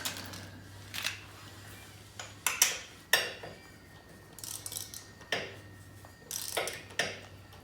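Ratchet tightening the oil drain plug on a 1993 Kawasaki Vulcan 1500 motorcycle, quiet close metallic clicks and short scraping bursts in irregular spurts with pauses between, no talk.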